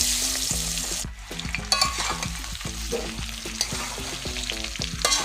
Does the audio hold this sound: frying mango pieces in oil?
yes